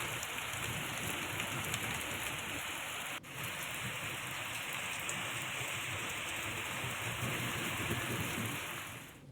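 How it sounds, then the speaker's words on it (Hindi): Heavy downpour with strong wind in Uttarakhand, a dense, constant hiss of rain pounding surfaces, loud and unbroken for the whole stretch, with one brief sharp dip partway through and no voices. "यहां तेज हवा के साथ मूसलाधार बारिश हुई"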